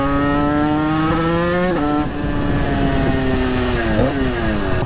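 A 50cc moped engine with a fouled, wet spark plug runs steadily up close, its buzzing drone dipping and stuttering briefly as it misfires, with no talking.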